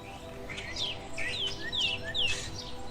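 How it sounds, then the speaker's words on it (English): A female finch on a remote volcanic Galapagos island calls in a series of thin, rising chirps, about six short high notes spaced unevenly over a few seconds, moderately close against a soft background hum. "A finch."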